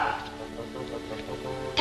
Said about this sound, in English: That's a nice little dog.